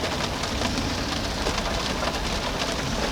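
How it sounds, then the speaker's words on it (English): Heavy rain falling hard outside in the Pacific Northwest, a dense, steady hiss of drops close by with no talking, constant throughout. "it just started raining hard, so if you hear that, that's the rain"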